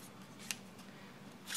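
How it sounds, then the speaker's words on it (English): Scissors snipping paper strips for an art journal border, two crisp, separate cuts heard up close over a quiet background. "So we can cut these up"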